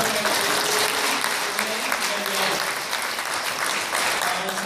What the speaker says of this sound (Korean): 우리 선을 위해서 큰 박수 한번 부탁드립니다